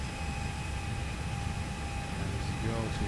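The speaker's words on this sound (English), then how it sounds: "this is the sound you hear when you get into the plane" Steady airliner cabin ambience on boarding an A321ceo, from a simulator sound pack: a constant broad hiss of air conditioning with a faint steady electrical whine underneath, unbroken and even throughout.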